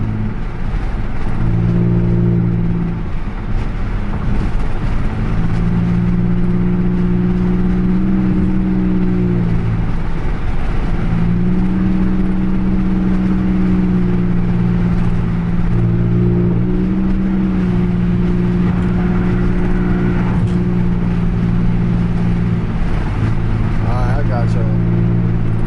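A Chevy Impala LT with a 3.9L V6 and straight pipe exhaust drones loudly from inside the car while driving, its engine note rising and falling across steady cruising as someone talks throughout.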